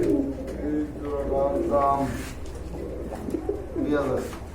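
Pigeons coo repeatedly in low, throaty bursts at a busy pigeon market, close by and mixed with background chatter and speech.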